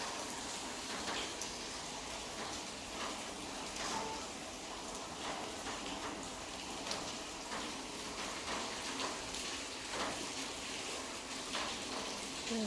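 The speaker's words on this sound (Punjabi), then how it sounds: "ਮੀਂਹ ਹਜੇ ਤੱਕ ਵੀ ਸਵੇਰ ਦਾ ਪਈ ਜਾਂਦਾ ਆ" Steady daytime rain falls on a rural farmstead, a dense, even hiss with scattered patters and drips close by, continuous and fairly quiet throughout.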